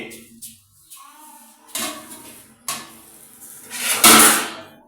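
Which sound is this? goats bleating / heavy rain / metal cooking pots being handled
metal cooking pots being handled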